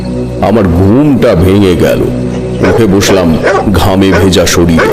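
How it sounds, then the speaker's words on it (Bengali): Dogs bark and yelp repeatedly in a Bengali horror audio drama night scene, loud rising and falling barks running beneath a narrator's voice throughout. "দূরে কুকুরের ডাক শোনা যাচ্ছে।"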